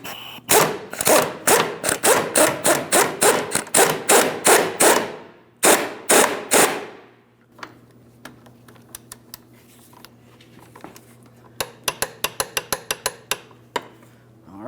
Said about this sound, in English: go ahead and snug it and torque it to 30 foot-pounds